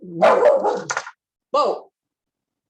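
A dog barks indoors in a few short, close, fairly loud yips and woofs separated by brief silences, with a person briefly speaking over it.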